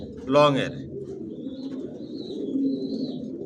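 In a loft, a female racing pigeon of the Johnson line sits on eggs, giving a soft, low, continuous cooing after a brief voice at the start.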